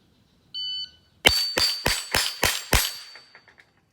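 A shot timer gives a short beep, then six rapid, loud shots from an HK SP5 ring off a steel plate rack with metallic clangs, followed by faint fading ringing.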